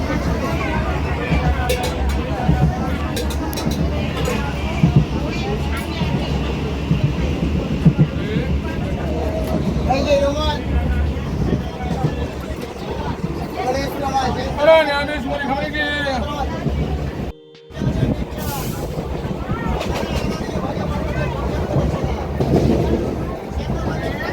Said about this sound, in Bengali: আর এদিকে এই দেখো ট্রেন